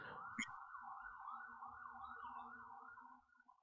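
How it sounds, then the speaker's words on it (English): An emergency vehicle siren wails outside, a faint, distant rising-and-falling tone that repeats steadily and fades near the end, with a brief knock early on. "I just hear sirens."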